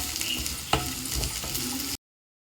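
Coriander leaves fry and get stirred in a pan for a chicken curry, a steady sizzle broken by a few sharp scrapes and clicks of the spoon against the pan, close and moderately loud, ending abruptly.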